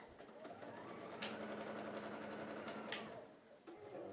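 Sewing machine stitches steadily around small pieces of fabric, a fast rhythmic whirring and clatter close by that briefly pauses and restarts near the end.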